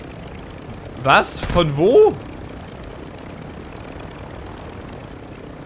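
Helicopter in the video game Warzone 2, a steady low engine and rotor drone running throughout, with a player's short startled exclamations briefly rising above it.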